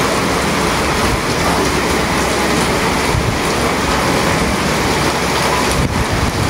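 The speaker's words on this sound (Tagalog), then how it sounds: "Sobrang lakas ng ulan." Heavy rain pours steadily during a typhoon flood, a dense, loud, continuous roar of water with no gaps and no voices.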